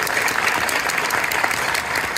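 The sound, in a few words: audience applause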